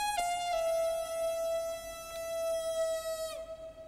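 Roland Juno-Di synthesizer playing its Porter Lead 1 preset: one sustained bright lead note held for about three seconds with a rich stack of steady harmonics and a slight pitch dip at the start, played alone at moderate volume.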